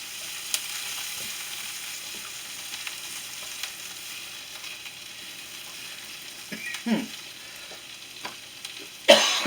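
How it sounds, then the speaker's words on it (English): Sliced Philly cheesesteak meat fries in a hot pan, a soft continuous sizzle under scattered scrapes and taps of a spatula being stirred, growing louder toward the end. "get this thing stirred up some more. It really don't take long to cook this."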